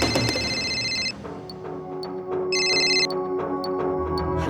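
A telephone rings in a repeated electronic bell pattern, loud and close, with bursts of ringing separated by short gaps over a steady low hum.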